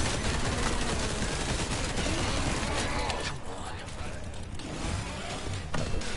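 Dense, loud gunfire from the video game Resident Evil 4, a rapid continuous barrage of shots and impacts that barely lets up across the whole stretch.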